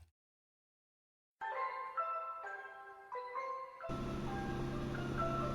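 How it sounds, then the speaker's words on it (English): Norwegian ice cream truck jingle from the video game VOTV, a plinking chime melody of stepped notes starting after a brief silence, joined by a fuller sustained backing partway through, played alone at moderate volume. "This is what the Norwegian ice cream truck sounds like."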